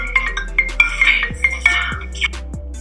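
A phone rings with an incoming call in the middle of a makeup routine at home: a short, tinkling electronic ringtone repeats in bright chimes over a steady low hum, with light clicks in between.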